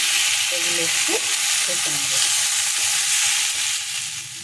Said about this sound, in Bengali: মশলার সঙ্গে এগুলো একটু কষে নেব